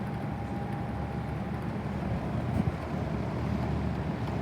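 An old Kmart box fan, freshly oiled, runs with a steady broadband whoosh of moving air and a faint motor hum, even and continuous throughout.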